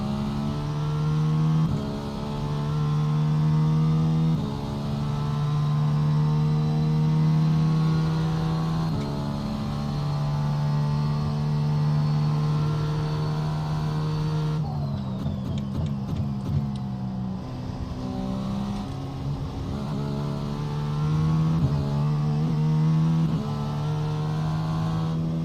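GTP-class race car engines in iRacing during a Petit Le Mans endurance event, a steady loud engine drone with shifting pitch, brief gear changes and lift-offs midway, while slower class cars are passed.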